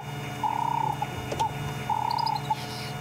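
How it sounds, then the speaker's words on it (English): Short bird-like chip contact calls from a wild animal on a Sabi Sand safari in South Africa at sunset, two brief trilled bursts with small chips after each, over steady ambient hum. "There you go, it's giving a little contact call. It sounds a little bit like a bird. It goes chip chip."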